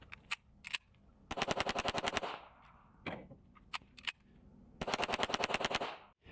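A Hi-Point JCP .40 pistol fires in quick strings of sharp, loud shots at an outdoor range, two long rapid bursts separated by scattered single shots.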